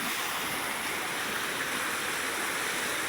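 Flood water rushes past a submerged house and bridge in a continuous, even roar of flowing water, moderately loud and steady, with no talking.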